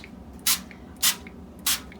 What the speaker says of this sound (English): Gonna start by spraying a baking pan just with some oil so that nothing sticks.